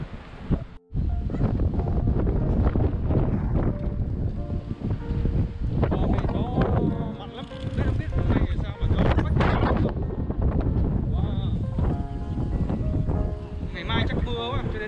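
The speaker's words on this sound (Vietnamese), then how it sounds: "Ngày mai chắc mưa quá, cho nên gió nhiều." Strong wind gusts buffet the microphone outdoors at a flower garden in France where flowers are grown for perfume, giving a loud, continuous roar with brief dips and faint background sounds.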